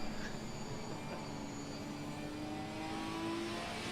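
Onboard engine of a Ginetta race car during an 8-hour race at Paul Ricard, a steady droning note that climbs gradually in pitch under acceleration, with no voices.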